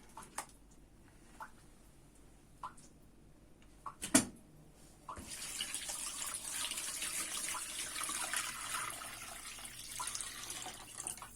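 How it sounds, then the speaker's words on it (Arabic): Tap water runs steadily into a cooking pot holding glass canning jars set for home-canned tuna, a continuous close hiss and splash that starts after a few faint clinks and a sharp knock. "بصوا انا حطيت الميه يا دوبك اهي، عامله لحد هنا كده بس"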